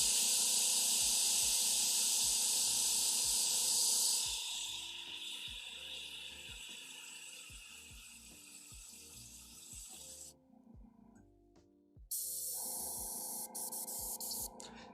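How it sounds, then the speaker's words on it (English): An airbrush sprays air and paint with a loud, steady hiss for several seconds, then the flow thins and sputters, cuts off briefly, and returns in short bursts; no speech is heard. "this is only an airbrush, people"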